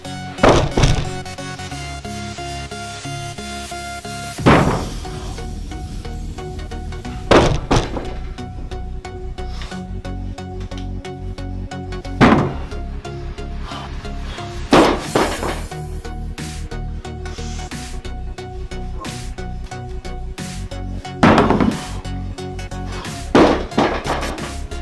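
A 50 kg Atlas stone ball dropped repeatedly during a workout, landing in heavy thuds about every two to five seconds over steady background music, each impact loud and close.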